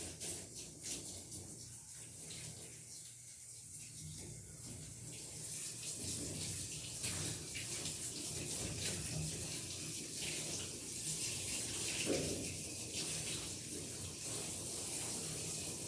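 Steady running water from a tap or sprayer rinsing a dog during a bath at a grooming session, a continuous hissing gush that shifts slightly as the stream moves, with no speech over it.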